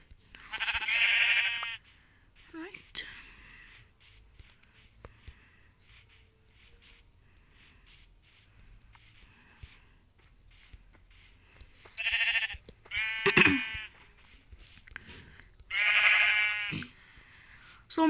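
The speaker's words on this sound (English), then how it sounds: "Try to kill some sheep." Sheep in the video game Minecraft bleat in short bursts, one near the start and three more close together near the end, with quiet stretches between.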